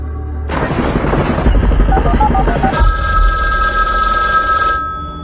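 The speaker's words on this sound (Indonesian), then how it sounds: "Sampai akhirnya Kohler menelpon lagi" A telephone ringing in a film scene, its bell trilling loudly over a rumbling, busy background with a heavy low-end boom.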